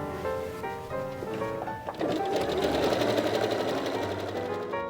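Sewing machine stitching fabric binding in the seam allowance with Gutermann fusible thread, a close steady mechanical whir that starts in short bursts, then settles into a continuous fast hum.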